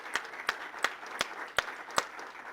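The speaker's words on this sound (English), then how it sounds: "give yourselves a round of applause" Audience clapping after student presentations at an alumni event, heard as about six sharp, evenly spaced claps standing out over a low murmur.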